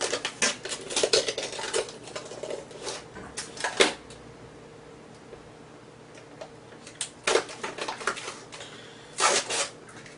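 Trimmed pieces of self-adhesive luxury vinyl floor tile are snapped and broken away by hand, giving sharp clustered cracks and ticks in two bursts separated by a quiet pause.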